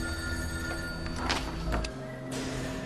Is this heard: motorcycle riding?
no